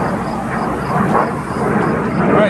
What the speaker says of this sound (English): A few little airplanes flying over.